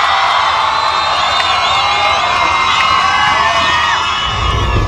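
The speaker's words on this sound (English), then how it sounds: "Wow, what a crowd." Concert crowd before a show, fans who have waited for hours, cheering, whooping and shouting in a loud, dense, sustained roar with scattered high yells throughout.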